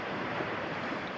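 Steady broadband wash of sea surf on a warm summer beach at Lynemouth, continuous and even with no distinct breaks, mixed with light wind.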